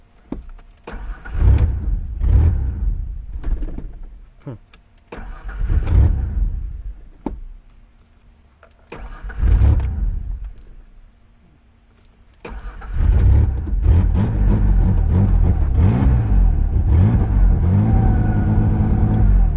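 A Ford Ranger with rev and power problems cranks and catches several times in loud, close bursts, its engine revving and fading between attempts before settling into a steady, rough running roar.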